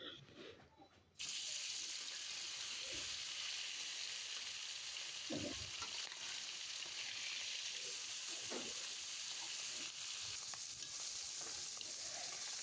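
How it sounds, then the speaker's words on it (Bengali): Spiced bata fish pieces frying in hot oil, a steady loud sizzle that starts abruptly after a quiet second and runs on with occasional soft clinks and crackles. "এখন ময় মশলা দিয়ে এখন আমি তেলে ভাইজা নিব।"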